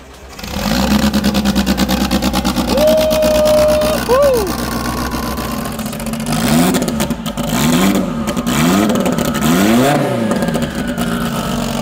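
A 1,300-horsepower drag race car engine is revved near and loud, holding a sustained high rev, then blipped repeatedly in sharp rising-and-falling bursts over a rough, lumpy idle, with voices heard briefly.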